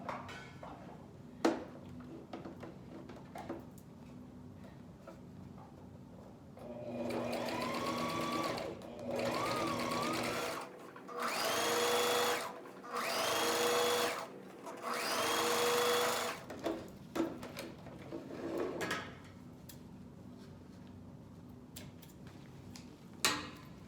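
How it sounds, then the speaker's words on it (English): A sewing machine top stitches a puffer jacket in several loud, steady bursts separated by short pauses, with quiet handling sounds between runs and no talking. "So I'm stitching on the right side basically."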